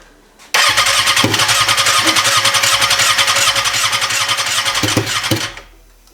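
A Kawasaki ZX-6R motorcycle engine fitted in a hybrid crosskart fires up abruptly and runs loud and close with a rough, rapid buzzing drone for several seconds before cutting off.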